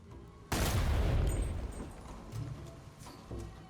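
Explosion in a PS2-era video game: a sudden loud boom that decays over a couple of seconds, followed by softer thuds and rumbles.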